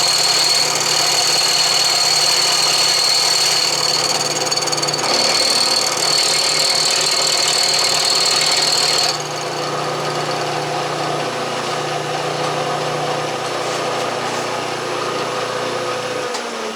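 A milling machine cuts cast iron dry, giving a continuous grinding hum with a high whine that drops off partway through as the cut changes, steady and close, no voices.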